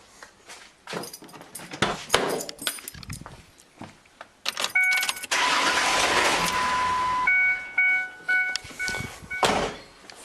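Keys jangle and clatter, then a 2001 Mazda B4000 pickup engine cranks and catches into a steady idle with a whining belt squeal after an idler pulley replacement, close and loud.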